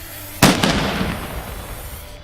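A milk churn fired with carbide, one of a row of 75 in Westergeest, gives a single loud, sharp bang followed by a rumbling, echoing decay, with no talk.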